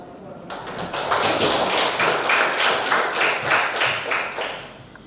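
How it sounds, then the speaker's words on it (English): Audience applause at an education seminar on teaching mathematics with the Cambridge curriculum, a steady roomful of clapping that starts abruptly, sustains loudly for several seconds, and tapers slightly near the end. "And please give her a round of applause for me."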